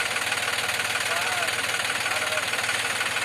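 A sand-loaded tractor's engine runs steadily with a dense, rhythmic knocking throb at a sand-mining site, loud and continuous, with no pauses in the running sound.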